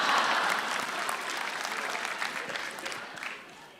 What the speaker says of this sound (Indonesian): Tepuk tangan untuk Raditya Daki.